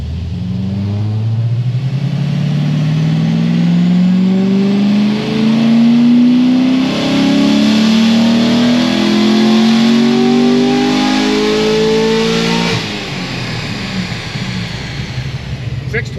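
A naturally aspirated LS7 V8 on a dyno pull: loud, steady engine roar climbing in pitch over about twelve seconds as revs rise, then cutting off sharply and settling into a lower idle.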